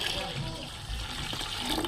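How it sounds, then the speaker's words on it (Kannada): Water splashes and runs steadily as it is poured into a pot of lentils for dalcha, a close, continuous pouring sound through the whole moment. "ನೀರು ಹಾಕೊಳತೆ ನೋಡಿ ನೀರು ಹಾಕೊಳತೆ ನೋಡಿ"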